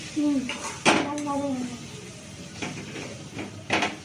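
A pan of softened onions, dried red chillies, green chillies and sugar being stir-fried for khichuri, with a utensil scraping and clinking against the pan at intervals while a person talks over it.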